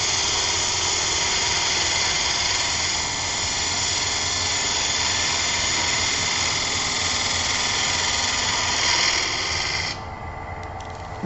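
Wood lathe spinning a turned bowl during the final cut: a steady, loud motor whine with a constant hum, the tone dropping near the end as the machine slows.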